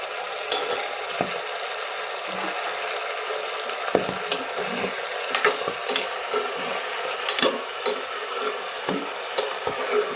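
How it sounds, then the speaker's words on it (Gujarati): A spoon stirs spicy Kathiyawadi undhiyu in a pan, with soft scraping strokes and scattered taps over a quiet sizzle, no talking. "ત્યારબાદ હવે એને હલાવી દઈશું."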